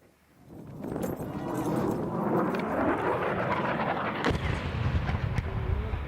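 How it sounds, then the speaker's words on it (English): A low, broadband roar of a low-flying fighter jet overhead swells within the first second and stays loud and sustained, with a sharper crack-like burst partway through. "we distinctly hear the sound of fighter planes flying overhead"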